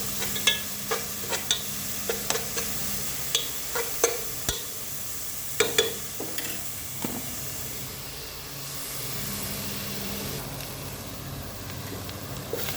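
Stirring in a frying pan as food is sautéed, with repeated sharp scrapes and knocks of the spoon over a soft continuous sizzle, close and fairly quiet, with no talking.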